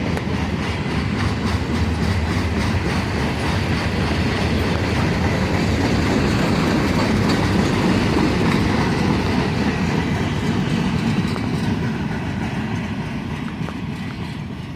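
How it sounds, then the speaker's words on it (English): Long freight train hauled by two GP38 locomotives, 154 cars, rolling past at Carlisle: a steady, loud rumble of wagons with rhythmic clickety-clack from the wheels, sustained throughout and easing slightly toward the end, with no talk. "Two GP38s and 154 cars by my count."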